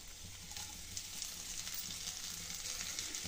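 Coriander, curry leaves, green chillies, cumin, salt, chilli flakes and sesame seeds sizzle in hot oil, a faint, steady crackling hiss close by with occasional stirring.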